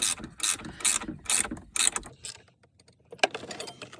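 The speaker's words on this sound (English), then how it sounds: "so you're going to tighten that back up" A ratchet tightens a battery terminal connection during the install of a 460Ah battery, giving a rapid series of loud, close clicking bursts, then a pause and one final click.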